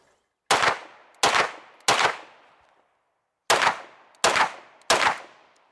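Six loud, close pistol shots from a race gun fired from a kneeling position, spaced in two groups of three with a short pause between the groups, each crack sharp with a brief ringing decay.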